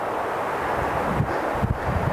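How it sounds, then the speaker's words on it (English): Strong wind gusts across a tent campsite, a steady broadband roar with louder buffets near the end, close to the microphone and with no voices. "As you can tell, it's super windy."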